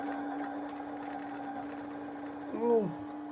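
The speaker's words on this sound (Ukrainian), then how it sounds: "Моталочка працює." A Brother RS260 sewing machine's bobbin winder hums with a steady mechanical drone nearby, with a brief rising and falling whir near the end.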